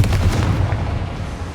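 A Confringo explosive spell goes off in Hogwarts Legacy as one loud, deep blast. A heavy low rumble fills the whole moment and slowly fades, with no talk.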